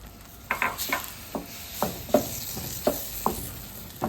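Peas are stirred into a simmering fish tagine sauce, giving a series of distinct scraping and clinking stirs at a regular pace over a soft, steady bubbling.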